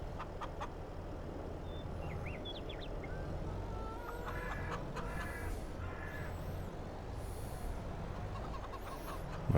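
Chickens cluck and crow at a coop in Farming Simulator 22, with scattered bird calls over a constant rumbling background of farm machinery and ambience, no voices.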